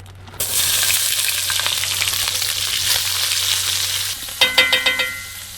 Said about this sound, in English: I'm gonna put that in our bacon grease.